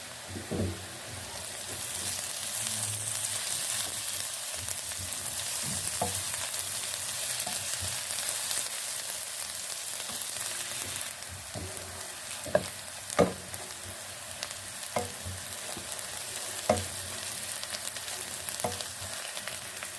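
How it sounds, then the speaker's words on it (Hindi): Crushed garlic, ginger and green chili frying in a pan give a steady close sizzle throughout, broken by occasional sharp clicks and scrapes of stirring. "अब इसमें हम ये लहसुन अदरक हरी मिर्च कुटा हुआ डाल लेंगे और इसको हम फ्राई करेंगे।"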